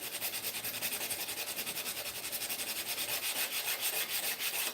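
A knife blade is hand-sanded to remove deep scratches, producing close, steady, rhythmic rasping strokes in an even back-and-forth pattern with no speech.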